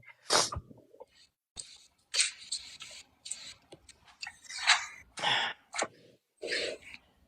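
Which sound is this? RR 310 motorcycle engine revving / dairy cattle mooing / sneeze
sneeze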